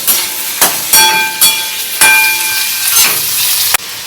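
Onion and fennel seeds fry in hot oil for an egg and red lentil dish, giving a steady, close sizzle with short bursts and crackles as the pan is stirred.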